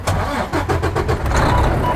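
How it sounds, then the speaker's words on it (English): A truck engine cranks and catches, a steady low rumble with rhythmic pulses that settle into a loud, close idle. "you're going to start the truck"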